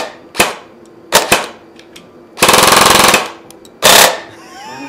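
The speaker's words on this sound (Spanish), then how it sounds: "Por eso una réplica de serie va a 15 bolas por segundo" Airsoft replica rifle firing: a few sharp single shots, then a rapid full-auto burst of about a second, and another short burst, loud and close with no talk over it.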